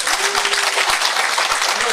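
A church congregation claps for an elder, a brief burst of dense, lively applause from a roomful of people, close and loud, with a voice audible beneath.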